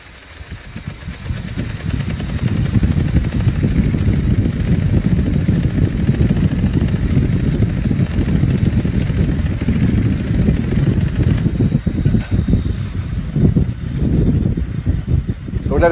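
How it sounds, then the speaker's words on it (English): A bicycle wheel gyroscope whirs steadily after being spun up, a loud, continuous rushing hum that holds evenly for many seconds. "so when I spin it up"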